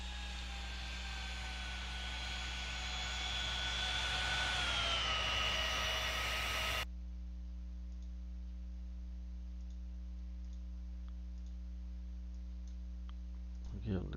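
A jet airliner with a real-world paint job throttles up for takeoff in a flight and air-traffic-control game: a steady engine whine with a slowly shifting tone for about seven seconds, then an abrupt cut to near silence.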